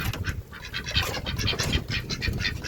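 Ducks quack repeatedly in a dense, overlapping chorus, close by and fairly loud, with a steady rhythm of nasal calls and no talking.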